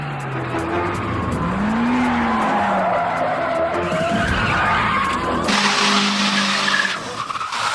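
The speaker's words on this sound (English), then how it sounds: "In this film, cars will flip and spin just like they do." Mitsubishi sports cars skid and spin during a film stunt, tires squealing loudly with a rising and falling screech over engine roar, ending in a harsh burst of scraping noise.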